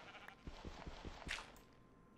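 Sheep bleat in a crafting-style video game, a few brief soft calls heard faintly among light clicking footsteps and quiet game sounds.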